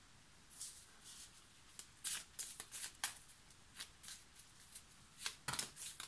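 A deck of tarot cards being shuffled by hand, soft riffling bursts repeating in an uneven rhythm, close and fairly quiet with no talk over it.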